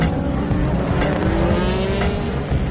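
A pack of race cars storms across the line at the start of the 76th Le Mans 24 Hours, a loud, dense engine roar with high tire-and-engine whine sustained throughout.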